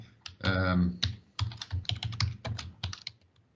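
Typing on a computer keyboard while entering Python code in the Spyder editor: a rapid, irregular run of close, crisp key clicks with a few heavier strokes, heard alone without speech.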